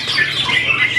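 At a songbird singing contest, a bird lets out a harsh, squawking call for about a second, close and fairly loud, with no voices over it.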